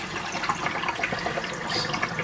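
A mini compact portable washing machine drains its wash water into a tub, a soft, continuous splashing trickle heard fairly faintly with no talking.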